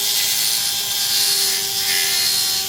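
A Dremel rotary tool grinds a bevel on an N690 steel knife blade of a Twosun TS428, giving a loud, steady high-pitched whine that runs unbroken throughout, close to the microphone.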